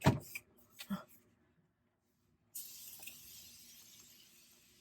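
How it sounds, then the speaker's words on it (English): After a few soft handling knocks and a moment of quiet, a makeup setting spray hisses in a fine steady mist for a couple of seconds, close and fairly soft. "I'm going to use the Morphe Continuous Setting Spray."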